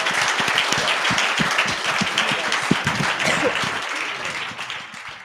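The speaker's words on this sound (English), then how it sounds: "let's give these guys a big round of applause" An audience at a Day of Giving event breaks into dense, sustained applause, many hands clapping steadily for several seconds and tapering slightly at the end.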